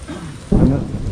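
Rain pattering steadily nearby, with a low rumble swelling midway through the short stretch.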